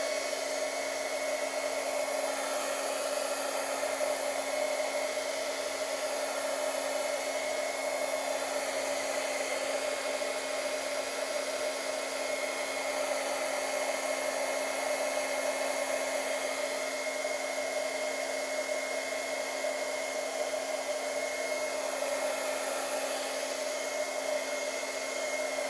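A hair dryer blows steadily over wet watercolor paint on Arches paper, a constant whirring hum with a fixed tonal whine, close and unbroken throughout with no talking.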